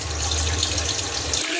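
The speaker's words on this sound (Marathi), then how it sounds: "आजी पाणी टाकून चांगलं धुवून घ्यायचं आहे" Steady running water splashes over bitter gourd pieces as they are rinsed in a kitchen, a continuous close faucet-like rush with no talking.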